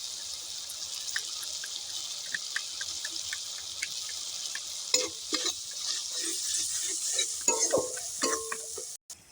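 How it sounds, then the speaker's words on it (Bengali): Ginger-garlic paste with chilli, turmeric and cumin powders frying in a pan for cabbage curry: a steady, soft sizzle with scattered taps and scrapes of a stirring spoon, growing busier toward the end, no voices. "মশলাটা ভালো করে কষানো হয়ে গেছে"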